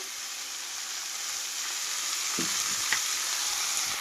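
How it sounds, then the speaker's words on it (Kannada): Onions frying in sunflower oil: a constant, even hiss of sizzling fat fills the clip, with a few soft utensil knocks near the end and no speech. "ಈಗೇನೈತಿ ಉಳ್ಳಾಗಡ್ಡಿ ಹುರಿಯಾಕೆ ಇಟ್ಟೀನಿ. ಇದನ್ನೇನೈತೆ ರೀ, ಚೆನ್ನಾಗಿ ಎಣ್ಣೆ ಹಾಕಿ ಹುರಿಬೇಕ್ರಿ."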